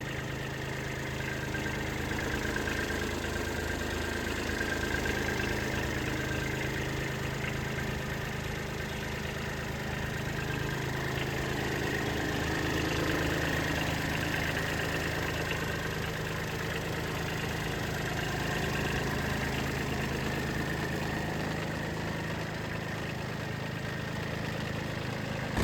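A mini tractor engine idling, a steady low rumble with a constant mechanical hum that continues evenly for about twenty-five seconds, with no voice.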